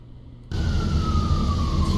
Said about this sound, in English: see the ambulance pass by with the noise, the sirens.